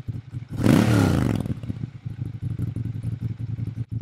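A Ducati Monster 796 motorcycle engine while riding, a loud low drone surging near the start then settling into a steady rumble with road and wind noise throughout.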